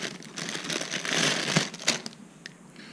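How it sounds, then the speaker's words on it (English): Crinkly rustling of plastic packaging for piggyback car fuse holders being handled close by, with a few sharper crackles and taps scattered through it. "Excuse the rustling."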